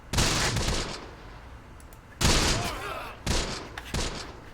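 Gunfire in Close Combat: The Bloody First crackles in loud bursts of rapid shots, pausing between volleys, with the rattle of sustained fire and distant echoes.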